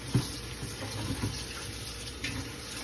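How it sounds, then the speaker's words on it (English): Tap water runs steadily into a kitchen sink as produce is washed in vinegar water, a soft continuous trickle with a few brief splashes and handling sounds, fairly faint and close. "So I'm gonna wash it with some vinegar, water to get any germs off it"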